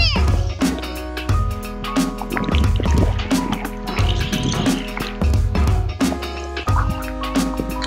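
A waterproof toy vehicle drives into water, throwing up repeated sloshing splashes and drips in uneven bursts, close and moderately loud, with bits of voice under the watery churn.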